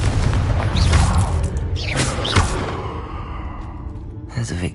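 A Confringo blasting spell goes off in a Harry Potter video game, a loud booming explosion with heavy low rumble and whooshing bursts, followed by fading rumble and a final thump.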